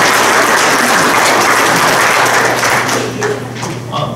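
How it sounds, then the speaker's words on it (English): Sustained applause for reading club students at a school board meeting, a steady wash of many hands clapping that fills the room before thinning out toward the end, with a low hum underneath. "Let's give them a nice round of applause."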